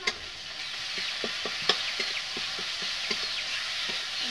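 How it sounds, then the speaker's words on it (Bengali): Cumin-coriander paste with ginger-garlic fries in oil for aloo dum, a soft, even sizzle punctuated by regular light taps and scrapes of a spoon stirring the pan. "কত কম লাড়াচাড়া করে ভাজিয়ে নেব।"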